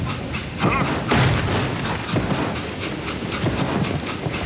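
Train in the Call of Juarez Gunslinger video game rolling along rails with a steady rumbling clatter, fairly close and continuous, with periodic heavier thumps and no talk over it.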